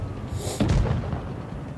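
A single tank cannon shot in the mobile game World of Tanks Blitz, a sharp booming blast followed by a short rumbling decay, heard alone.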